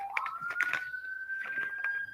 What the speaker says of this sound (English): Let the sirens go by.